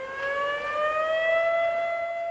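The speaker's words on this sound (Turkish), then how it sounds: "9'u 5 geçe sirenler çaldığında öğrenciler de suda hareketsiz kaldı." Civil defense sirens sounding at 9:05 for the Atatürk memorial, a single sustained rising wail that holds steady and loud from a distance, with no talk.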